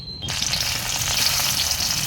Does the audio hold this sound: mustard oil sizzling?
yes